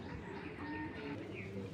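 Silver giribaz racer pigeons give soft, low, rolling coos close by against a faint background murmur.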